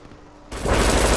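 Enemy turret in the video game Brink opens fire after a brief quiet lead-in, a loud, dense burst of rapid automatic gunfire that keeps going to the end.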